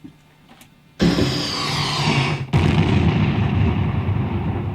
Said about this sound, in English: we need an explosion when this thing blows up. So found an explosion, laid that down here in stereo.